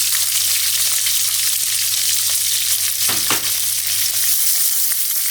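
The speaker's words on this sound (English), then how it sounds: "Put them on a high flame until they are nicely brown." Sliced white onions frying on a high flame for karahi paneer, a loud, dense, unbroken sizzle close up with one brief stirring rustle midway.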